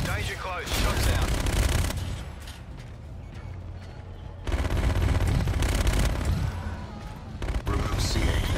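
Rapid automatic gunfire crackles in Call of Duty: Infinite Warfare, dense bursts of fusillade with a short lull in the middle before a renewed loud volley, mixed with mechanical clanks and a voice over the combat.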